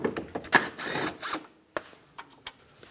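A 10 millimeter bolt is loosened with a ratchet on the strut and spring assembly of a 1997-2003 Lexus ES300: a burst of quick ratcheting clicks, then a few sharp separate metallic taps, close and alone.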